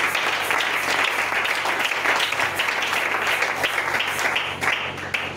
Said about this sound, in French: Est-ce que tu peux encore acclamer le Seigneur?